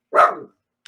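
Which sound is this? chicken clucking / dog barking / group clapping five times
dog barking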